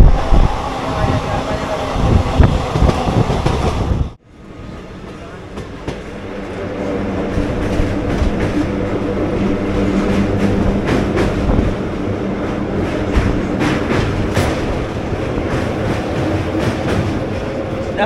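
The 15722 Paharia Express rumbles loudly across the Kolaghat rail bridge on the way from Howrah to Digha, with steady wheel clatter and car rattle. A brief sudden drop in the roar comes early, then the din builds back and continues.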